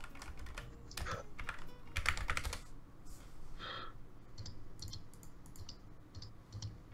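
Typing on a Wooting computer keyboard, quick bursts of clattering keystrokes close up, followed by sparser single clicks at a slower rhythm.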